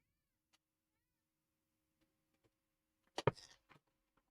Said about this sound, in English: Oh, wait, you guys can hear the cat?